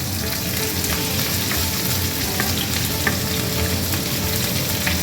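Chopped capsicum and onion fry in a little oil for a vegetarian chilli paneer, giving a steady, loud, close sizzle with no talking over it.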